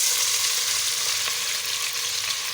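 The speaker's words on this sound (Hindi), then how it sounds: "तो अभी हम प्याज को डाल देंगे।" Chopped onions dropped into hot cooking oil for a dal mash masala, a bright steady sizzle and crackle of frying that holds loud and even throughout with no talking.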